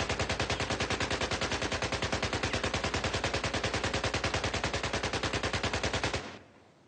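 Automatic gunfire from Battlefield 4 rattles in a fast, unbroken, evenly spaced stream of loud shots, then stops abruptly and leaves a brief fading tail.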